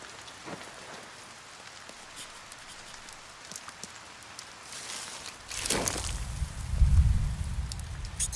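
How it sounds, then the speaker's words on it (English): Rain begins falling, a faint patter that builds toward the end with a few louder splashes and low thuds, no voices present. "Oh great, it's starting to rain."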